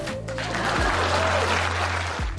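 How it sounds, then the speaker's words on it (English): Audience applause during a talk, a short burst of clapping from a crowd, heard over low sustained hum tones and a descending electronic sweep. "Please clap."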